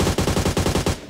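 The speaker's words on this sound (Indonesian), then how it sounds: "Kok gue di belakang tembok begini dia masih bisa nembakin gue?" Rapid automatic gunfire in PUBG Mobile, a steady burst of evenly spaced loud shots that ends abruptly.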